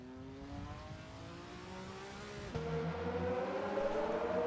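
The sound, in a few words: race car engines in an endurance racing video game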